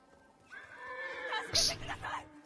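A horse in the video game Ghost of Tsushima gives a loud, rising whinny that swells and breaks into a shrill peak before trailing off, heard up close.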